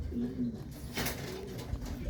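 Soft pigeon cooing repeats through the clip, mixed with background noise and a brief sharper rustle near the middle.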